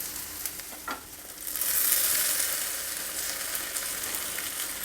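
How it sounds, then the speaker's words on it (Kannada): Tomato puree goes into a pan of onions and peas already frying for a poha dish, and a bright, steady sizzle swells and holds after a few light stirring taps. "ಈಗ ರೆಡಿ ಇಟ್ಕೊಂಡಿರೋ ಟೊಮ್ಯಾಟೊ ಪ್ಯೂರಿನ ಇದರಲ್ಲಿ ಸೇರಿಸ್ತಾ ಇದ್ದೀನಿ"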